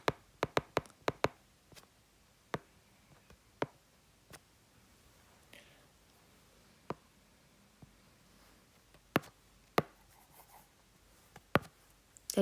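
Pen or chalk writing on a balance sheet produces a quiet run of sharp, scattered taps and short scratchy strokes, irregular and close, with no talking.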